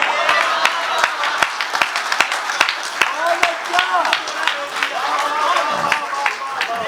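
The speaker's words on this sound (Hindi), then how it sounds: "सुनील सर ने जो जवाब दिया उसके लिए इनके लिए तालियां बजाइएगा" An audience at a Nagpur poetry event applauds for Sunil sir, sharp claps repeating steadily throughout under crowd noise, with a voice speaking over the clapping at times.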